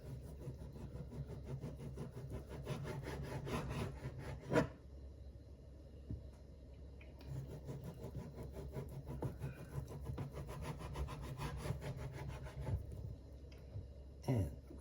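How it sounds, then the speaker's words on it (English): A knife cutting sopressata into strips for an Italian meat and veggie flatbread pizza: continuous close rasping, rubbing cuts with one sharper knock, set against a low steady hum. "The first thing we're gonna do is cut our sopressata into strips."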